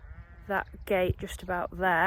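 Young ewes being moved through a farm gate bleat in several loud, wavering calls close by, overlapping with a person speaking.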